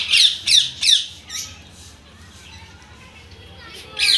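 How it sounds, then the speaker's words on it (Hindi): Desi Indian parrots in a zoo enclosure give three sharp, shrill squawks in quick succession, then another burst near the end. They sound close and loud, with faint background noise between the calls. "देसी तोता इस पर लिखा हुआ है, ये सबसे बदतमीज है, टी टी कर रहे"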